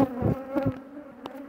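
Honey bees buzzing close by at an apiary, a continuous droning hum that swells now and then as individual bees pass near.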